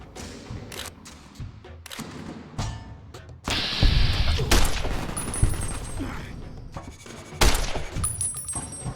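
Explosions and gunfire in the video game Fallout: New Vegas, with grenade launcher blasts among them: a string of loud, sharp bursts and heavy thumps. Several big booms hit around the middle and near the end.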